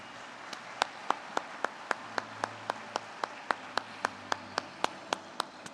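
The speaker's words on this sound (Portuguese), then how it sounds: "Eu acho que a gente tem que dar mais palmas para ele." Audience applause for Brazilian political commentator Caio Coppola at a business event talk: a steady train of sharp, evenly spaced claps, fairly close and moderately loud, with no voices.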